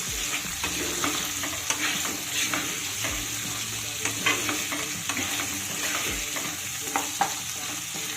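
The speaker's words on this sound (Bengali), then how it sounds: "এবার আলুগুলোকেও লাল করে ভেজে নিতে হবে" Potato pieces frying with salt and turmeric in oil in a pan, a constant crackling sizzle with frequent spatula scrapes and stirring knocks, close and fairly loud, no talking.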